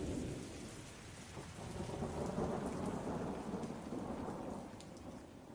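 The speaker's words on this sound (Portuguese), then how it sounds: "A tempestade de hoje se acalma, mas os segredos permanecem." Steady heavy rain pours on surfaces with deep rolling thunder rumbling beneath it, a soft, continuous storm wash with no voices.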